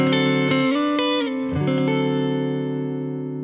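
Electric guitar played through a Harley Benton tube combo amp, a few sustained notes and chords ringing out loud and close with reverb tail, no talking.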